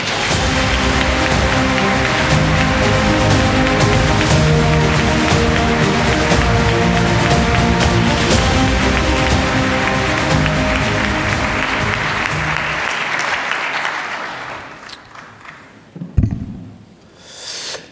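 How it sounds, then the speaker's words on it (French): A large audience at a political rally breaks into loud, sustained applause and cheering that fills the room for about fourteen seconds, then fades out, leaving a few isolated claps and a brief thump. "Je vous demande un tonnerre d'applaudissements pour Jean-Yves Le Gallou."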